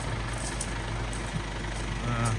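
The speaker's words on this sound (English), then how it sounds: "It's a massive old lorry, isn't it?" A massive old lorry rumbles by on a narrow road, a steady low engine drone with a mid-distance presence and a slight swell near the end, with faint speech mixed in.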